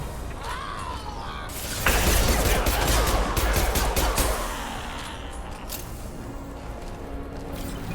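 Mass Effect 2 combat gunfire erupts in a loud, dense clattering volley lasting a few seconds, then thins to scattered mechanical clicks and cracks.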